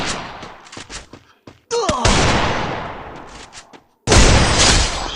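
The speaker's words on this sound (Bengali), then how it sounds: "আমরা শুধু ডেজার্ট দিয়ে হেডশট মারার চেষ্টা করব" Desert Eagle pistol shots ring out in a first-person shooter game, several sharp loud blasts with long booming echoes. Rapid cracks are followed by two heavy reports that decay slowly, with no voices.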